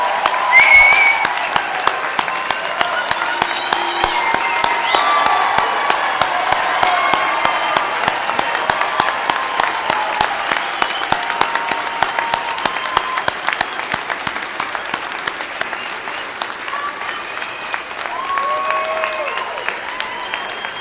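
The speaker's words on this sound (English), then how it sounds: "Why don't we all get up and give them a round of applause?" Audience applause fills a white coat ceremony for an osteopathic medical class of 2029, a dense, steady clapping from a large seated crowd that runs throughout, with scattered cheers and a few voices mixed in.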